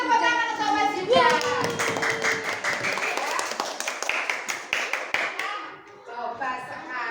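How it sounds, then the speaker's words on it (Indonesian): A classroom of primary school pupils applauding, a burst of dense clapping that starts after a teacher speaks and fades out within a few seconds, with voices over it. "Terima kasih tepuk tangan untuk Mas Zidan"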